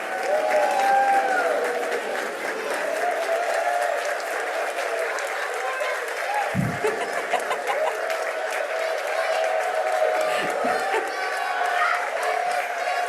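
A school celebration crowd of students and staff breaks into sustained applause and cheering, dense clapping with scattered whoops running unbroken throughout at close range.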